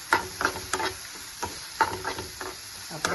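Onions and ginger paste frying in a pan, a soft sizzle broken by repeated quiet scrapes and stirs of a spoon at a steady, unhurried rhythm.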